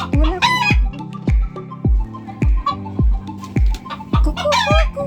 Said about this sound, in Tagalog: So, ayan po ang manok ng amo namin.